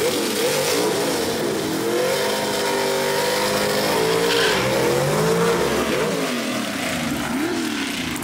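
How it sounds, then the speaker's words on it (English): Gasser drag race cars roar down the strip at Kil-Kare Dragway, a loud, continuous engine howl that rises and falls through gear changes, heard from trackside without speech. "And Greg Stelt stays straight and gets down the racetrack."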